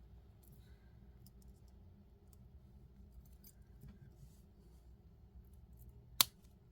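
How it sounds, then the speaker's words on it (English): A single sharp snip of scissors cutting through beading wire near the end of a crimped necklace strand, close and crisp after several seconds of quiet room tone. "Now we're going to cut this off."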